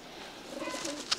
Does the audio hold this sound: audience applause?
no